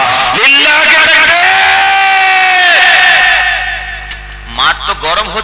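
A large crowd at an Islamic gathering roars back the takbir in unison, a loud, sustained collective shout that trails off, followed by a few scattered voices.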